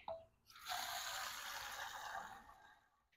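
Tap water pours steadily into a container being filled to the one-gallon mark for an organic aphid spray, a sudden broad gush starting after a brief pause and running for about two seconds before tapering off.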